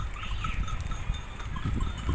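A flock of sheep with lambs in Esiroğlu, faint bleats over a steady rustling and shuffling of hooves, with a distant bell sound, no talking.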